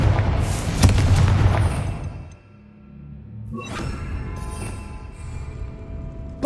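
A fiery Confringo blast spell from Hogwarts Legacy erupts in a loud, booming roar that rumbles for about two seconds, then a second softer whooshing burst follows, with no talking.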